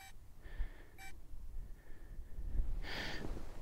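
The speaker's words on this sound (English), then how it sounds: "stop that flashing and beeping." Electronic beeps from a crashed drone in short tonal bursts, a couple of sharp chirps and a longer beep pattern, fairly quiet over a low background rumble.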